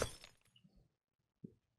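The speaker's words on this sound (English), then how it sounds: "We'll break this glass here." A glass block shatters in a Minecraft-style game, a bright crashing burst up front that trails off, followed later by a short softer knock, with the rest nearly silent.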